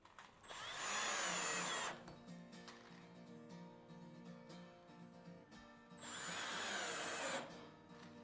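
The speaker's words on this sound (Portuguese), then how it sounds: "agora eu vou parafusar essa peça" A power drill drives a screw to fix a piece onto a wooden template jig for a laminate trimmer router, whirring in two loud bursts separated by a quieter stretch of faint handling noise.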